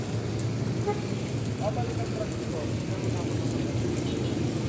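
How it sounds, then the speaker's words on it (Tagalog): Sudden heavy downpour of rain pouring outdoors, a dense steady broadband hiss of rain on surfaces with low rumble, loud and continuous throughout. "biglang bumuhos na naman yung ulan ah basa na naman tayo"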